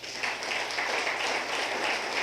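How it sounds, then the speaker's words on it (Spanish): A church congregation applauding the Lord during a Spanish-language sermon, a dense, continuous wash of clapping from a large gathering, moderately loud and steady throughout. "¿Cuánto le damos un aplauso al Señor?"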